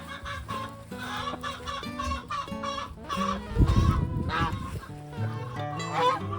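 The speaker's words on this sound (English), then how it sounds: "We have kept our marins in here because they will produce beautiful olive eggs when crossed to our roosters that are in here." Marans hens and roosters in a backyard coop cluck and call in a busy, overlapping chorus. One louder, harsher honk-like squawk cuts in midway, heard up close.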